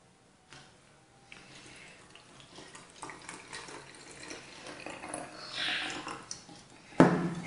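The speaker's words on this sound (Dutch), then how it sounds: "Eerst vullen met water." Tap water runs into a small bottle, starting faint and gradually growing louder and more hissing as it fills, ending with a sharp clatter near the end.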